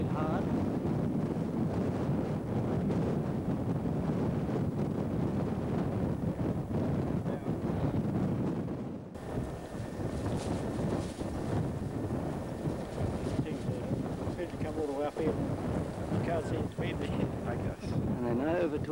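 Strong wind buffets the microphone on the summit of Uluru in Australia's Northern Territory, a loud, steady roar with gusty rumble lasting throughout.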